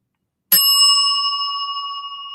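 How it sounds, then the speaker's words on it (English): A single bright strike on a small bell in a saloon-themed livestream, ringing out clearly after a sharp metallic attack and sustaining its clear overtones alone, with no voices. "I can't even ring the bell right."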